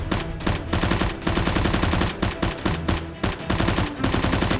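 Rapid bursts of Nerf gun fire in a staged criminal-raid fight crackle loudly and continuously, volleys overlapping with brief gaps between them.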